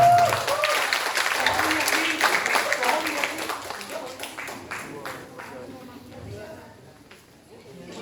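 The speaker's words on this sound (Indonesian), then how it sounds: "kita berikan aplaus untuk kelompok" Applause from an audience for a presenting group at a gathering, a dense wash of clapping that starts loud and gradually thins and fades toward the end.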